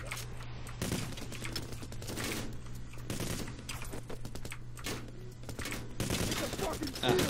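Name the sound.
gunfire in the video game PayDay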